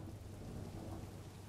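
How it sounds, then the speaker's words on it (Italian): Steady rain falls outside with low rumbling thunder in the video game Smart Factory Tycoon, a constant soft wash of noise with no voices. "Intanto fuori piove."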